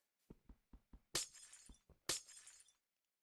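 Glass blocks shatter in the Minecraft-style game Ultracraft: a run of soft thuds leads into two bright, crashing breaks about a second apart, crisp and close, with no talk.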